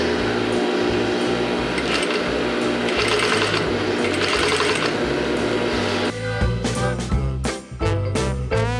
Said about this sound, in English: You just have to put your machine at longest stitch length.